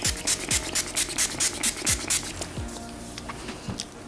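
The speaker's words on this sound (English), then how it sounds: "I'm going to spray my face with the Maybelline Master Fix setting spray" Maybelline Master Fix setting spray hisses in a quick run of short pumped bursts, about a dozen close spritzes with light rubbing and handling noises between them, then a quieter tail.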